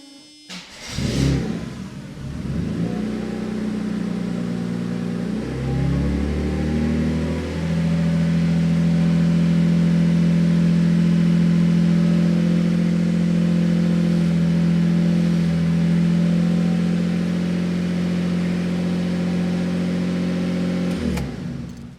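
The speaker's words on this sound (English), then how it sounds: "I'll go ahead and fire the engine up" A pre-merger Mercedes 300CE AMG engine cranks and fires, then settles into a loud, steady idle that holds for about twenty seconds with no one talking.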